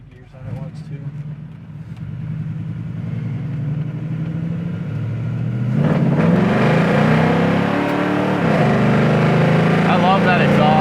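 A 1969 Camaro's engine and exhaust rev up through the gears on the road, a deep rumble that swells louder and harsher partway through as it accelerates, with people talking over it.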